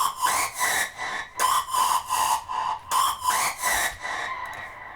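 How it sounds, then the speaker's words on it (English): A screeching lead synth patch built in the Serum synthesizer for hardstyle, playing in rhythmic pulsing bursts with a bright, nasal, vowel-like tone, loud and alone. "this is a serum screech"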